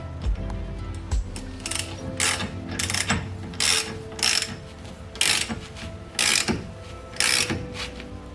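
A ratchet wrench tightens a part on an R33 Nissan Skyline, its clicking coming in a rapid run of short, loud bursts separated by brief pauses, close by.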